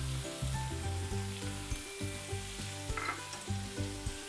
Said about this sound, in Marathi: सगळं मिक्स करून घ्यायचं आहे।